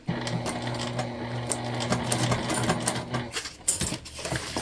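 Sewing machine stitching the lining of a crossbody bag pocket, a steady close mechanical hum and rapid needle clatter running for about three seconds before stopping, followed by a few light handling sounds.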